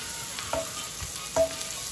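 Onion and pepper fry in a pan for a Philly cheesesteak, a steady close hiss of sizzling with two short scraping stirs.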